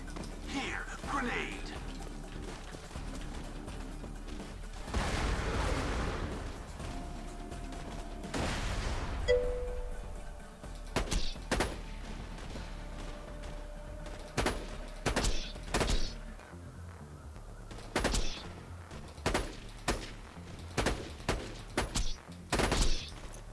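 In the Borderlands video game, a grenade goes off amid gunfire, heard as a dense burst of shots followed by a scattered string of sharp, loud reports. Someone talks over the combat.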